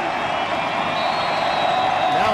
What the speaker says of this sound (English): Now the crescendo of the crowd.